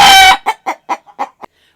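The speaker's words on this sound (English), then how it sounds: "One thing about roosters are they're very noisy" A rooster, loud and close, ends a crow and then gives a quick run of about six short clucks that trail off into silence.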